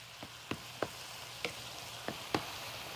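Cauliflower cooking in a skillet, a low steady sizzle broken by about six sharp spitting pops at irregular intervals, close and fairly quiet, with no talking.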